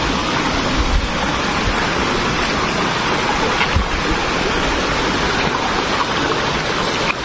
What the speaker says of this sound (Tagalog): Ito yung ilog nila.